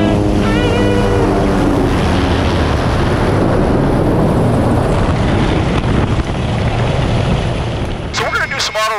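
A helicopter flies before engine-failure autorotation training, a loud steady rotor and engine roar with wind buffeting on the microphone throughout, and a brief radio-like chirp near the end.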